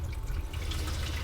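A camper van faucet on its shower setting sprays water in a steady, soft hiss with a low rushing undertone, continuous and fairly quiet.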